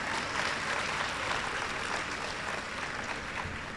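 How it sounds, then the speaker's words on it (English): An audience at a university matriculation and welcome ceremony claps for the principal, a dense, even wash of applause that holds steady throughout. "I think you could give your principal a better round of applause than that"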